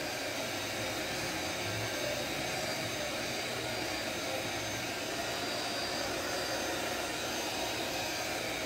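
A noisy hair dryer runs continuously, giving a loud, steady whooshing roar of broadband air noise that holds unchanged from start to finish with no pauses.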